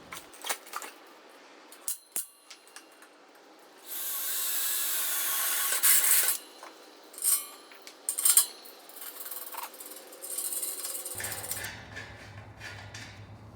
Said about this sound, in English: get my hole marked and drill on the ramp